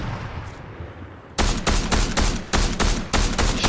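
Fortnite gunfire, with quiet game ambience suddenly giving way to loud, close, rapid bursts of shots that repeat in quick clusters until the end.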